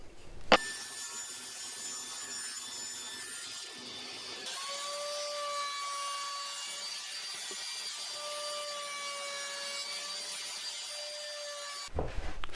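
A handsaw cuts an oak shelf to width with a continuous rasping stroke that runs for about eleven seconds. The pitch shifts partway through, and a sharp knock at the start and a clatter at the end frame the cut.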